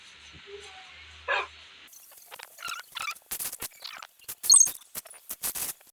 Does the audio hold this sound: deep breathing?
no